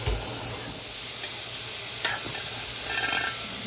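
Steam and pressure escape from a pot of cooking yellow Spanish rice, a loud, continuous hiss and sizzle close by, with a high whistling tone running through most of it.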